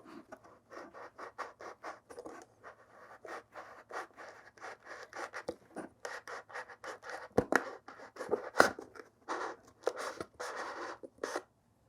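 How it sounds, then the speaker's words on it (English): A sharpened aluminum tube cuts a hole in a Deathcharger skull model with rapid, close scraping and scratching strokes in irregular bursts, without any talk. "I sharpened this aluminum tube so I can cut that hole very carefully"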